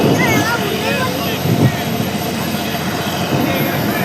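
Loud, steady roar of aircraft engines on the apron at Kolkata airport, a constant broadband rumble that fills the whole clip while a person talks over it.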